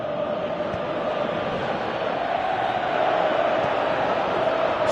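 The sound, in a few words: stadium crowd chanting in video game PES 2018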